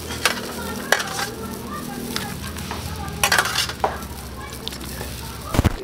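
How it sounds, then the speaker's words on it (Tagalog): Chicken pieces go back into a boiling pot of chicken pares broth and are stirred, giving steady bubbling and sizzle with scattered utensil scrapes and clinks against the pot, close and continuous. "ibabalik na rin po natin yung ating manok sa kumukulo"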